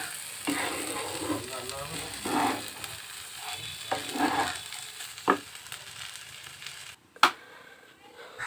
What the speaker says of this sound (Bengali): চালটা দেওয়ার পরে এবার সুন্দর করে ভেজে নেব একটু কষিয়ে নেবো